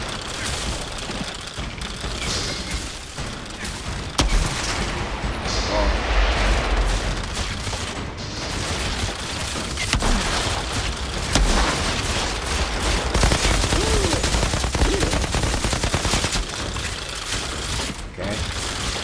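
Gunfire in the shooter game Outriders, steady heavy volleys and booming blasts running throughout, loud and close, with a voice talking over the fighting.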